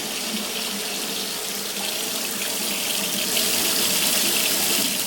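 Water gushes steadily from a pipe during pipe cleaning, coming out slightly dirty, a constant loud hissing flow that grows a little stronger near the end.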